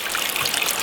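Water runs from an outdoor tap fed by gravity through a hose pipe from a natural cistern up a glen on the Isle of Man, a brief steady splashing trickle, close and fairly loud.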